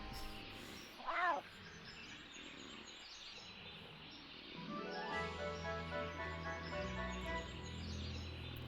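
Cat meowing in the Knight's Apprentice: Memorick's Adventures video game on the original Xbox, one short meow near the start followed by a sustained musical game tone.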